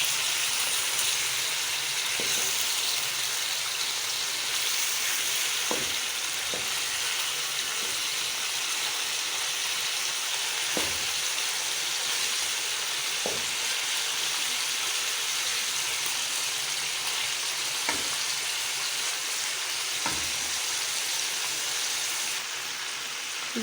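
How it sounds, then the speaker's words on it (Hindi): Chicken pieces frying in oil for a dagi chicken korma, a constant hissing sizzle with a few soft clicks and taps spaced through it, steady and close with no talk. "ये देखें, चिकन हमारा फ्राई हो रहा है।"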